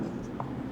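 A short, steady scratch of pen or pencil writing on paper while a geometry lesson is being worked through, close and continuous, with faint room noise.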